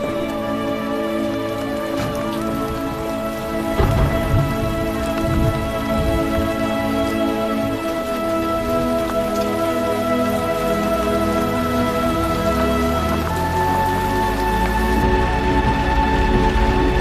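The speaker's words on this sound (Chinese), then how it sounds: "下雨了" Rain falls in an even, moderate wash of drops, with sustained musical tones playing over it and a few louder splashes near the start.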